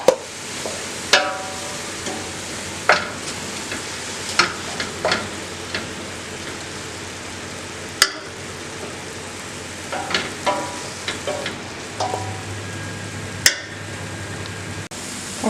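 Onions sautéing in oil with a little salt, a continuous close sizzle broken by sharp spatula scrapes and clacks against the pan at irregular intervals, with no talking.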